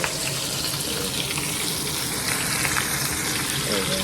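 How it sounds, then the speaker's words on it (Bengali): Rohu fish heads fry in oil in a busy kitchen, and a loud, steady sizzle runs close by without pause over a dense background wash. "মাথাগুলো ভাজছি রুই মাছের মাথাগুলো"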